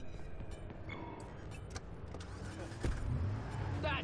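Car engine in the video game Watch Dogs, driving with a steady mid-level hum and a louder surge of revving near the end.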